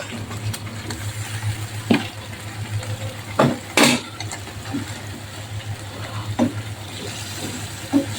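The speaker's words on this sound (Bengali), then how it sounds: "এখন আমি আগে থেকে বেজে রাখা আলুগুলো দিয়ে দিব" Pre-fried potatoes going into a pan of spiced masala for a potato-tomato magur fish curry, a low bubbling sizzle under a constant hum, with a few sharp clatters and scrapes of the spoon against the pan.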